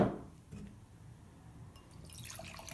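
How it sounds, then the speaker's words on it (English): Double IPA poured into a glass, a brief liquid splash and trickle at the start followed by a fizzy, hissing pour rising toward the end, close and fairly quiet. "I guess maybe I'll pour that one so you can see it, and then I'll pour this one."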